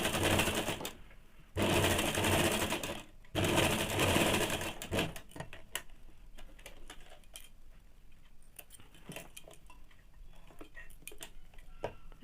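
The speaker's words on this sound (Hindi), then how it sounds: "ये नीचे वाला पट्टी को इस प्रकार से फोल्ड करके एक सिलाई चला देंगे" A sewing machine stitching along a folded fabric strip for a ladies' pant, two loud running bursts followed by slower ticking and clicking of the mechanism, no voices.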